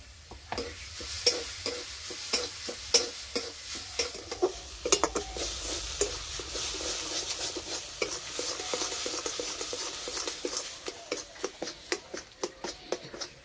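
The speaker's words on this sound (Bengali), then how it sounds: "এইভাবে একটু কিছুক্ষণ ভালো করে নেড়ে নেব" Boiled lentils being stirred in a frying pan with a little salt, the spoon scraping in steady repeated strokes over a continuous loud sizzle, with no voices.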